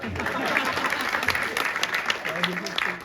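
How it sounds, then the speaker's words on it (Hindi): An audience at a Hindi poetry recital at a college in Panipat claps steadily and loudly throughout, dense applause filling the whole stretch with a faint voice underneath. "एक बार ताली बजा के छुट्टी करोगे"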